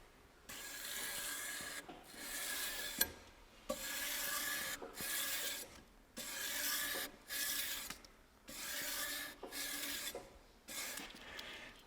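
A steel knife blade is hand-scrubbed lengthwise with abrasive to remove grinder lines, giving loud, close, rhythmic back-and-forth rasping strokes in steady bursts separated by brief pauses.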